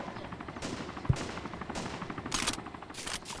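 Distant enemy gunfire in a shooter game, faint bursts of automatic shots spaced through the stretch with one sharper nearby crack.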